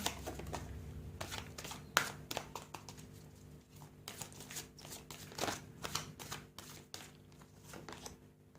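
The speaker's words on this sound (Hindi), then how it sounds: "चलिए, आपके लिए और कार्ड्स निकाल लेते हैं पहले।" Tarot cards being drawn and shuffled, a faint series of soft slaps and flicks of card stock in an irregular rhythm, close by and quiet.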